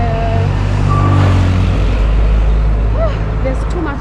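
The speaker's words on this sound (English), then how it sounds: "And as you can see, there's so much traffic along here." Heavy evening road traffic on a Nairobi road: loud, continuous engine rumble of cars, trucks and buses close by, with brief horn-like tones and beeps rising above it, and a voice talking over the noise.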